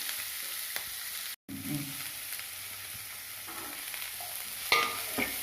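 Onions and green chillies sautéing in oil for egg curry, a steady, fairly quiet hiss with soft stirring scrapes, broken by a brief silent gap early on and a louder clink near the end.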